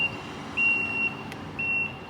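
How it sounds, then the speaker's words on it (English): A truck offloading heavy machinery sounds its backup alarm loudly in three evenly spaced, steady tones over a low engine rumble. "So you hear that backup beeping."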